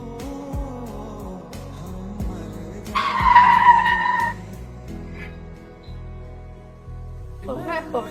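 A motorbike skids in a dramatic road scene, a brief squealing screech rising over a music score and low rumble, with voices around it.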